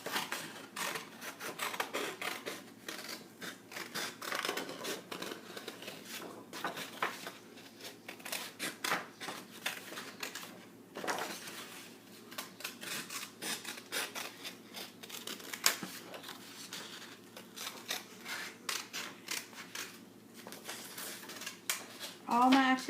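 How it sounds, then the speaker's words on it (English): Scissors snip around a hand traced on paper in quick, uneven strokes, soft close-up cuts and paper rustling repeating steadily with brief pauses over roughly twenty seconds. "Now I'm going to cut it out really quick if I can find my scissors."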